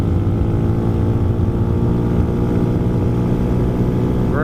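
A Hawk 250 motorcycle engine at wide open throttle on an open road, a loud, steady droning engine note with constant wind rush and no breaks.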